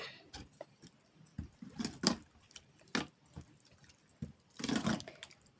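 Jaggery water is poured into a coconut rava roti dough and worked in by hand, giving a series of soft, close wet squelches and slaps in an irregular rhythm, with brief drips between, no speech.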